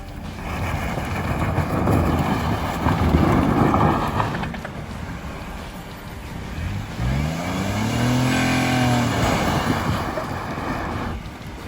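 A Nissan Magnite's engine revs hard while climbing a small sand and mud hill off road, loud and close with heavy wind buffeting the microphone and a rising, surging engine note near the end.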